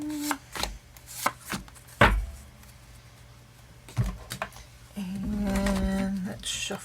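Tarot cards are shuffled on a desk that clangs, giving sharp scattered taps and knocks before a longer riffling clatter near the end, while someone talks nearby.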